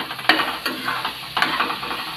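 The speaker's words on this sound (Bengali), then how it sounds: "তাই আমি ভালো করে আবার নেড়ে দিলাম" Ash gourd sukto is stirred in a pan, with three scraping strokes of the spoon against a soft sizzle.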